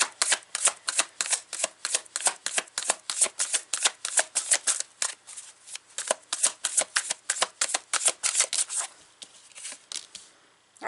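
A Kawaii Tarot card deck is shuffled by hand in a steady, rapid rhythm of crisp riffling flutters, close and fairly quiet, with no talking.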